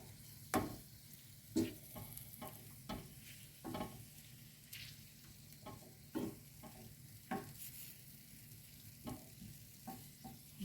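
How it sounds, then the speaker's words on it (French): Shrimp and chorizo cooking in a pan for pearl couscous, a quiet steady sizzle broken by repeated sharp scrapes and taps of a spoon stirring at irregular intervals; no voices. "on va laisser les crevettes cuire"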